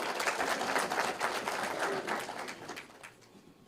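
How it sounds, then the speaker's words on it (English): Applause from the audience at a regional state-of-the-region address, a dense burst of clapping that tapers off over a few seconds and ends almost alone. "Let us give a hand of applause"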